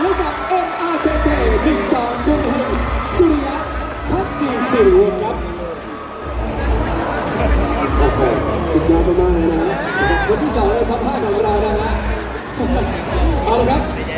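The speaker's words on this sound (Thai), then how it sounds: "ขอเสียงปรบมือ" Crowd applause at the Mister Khonkaen 2025 Top 5 question round pageant, a steady wash of clapping mixed with chatter and hubbub from a large audience, continuing loudly throughout.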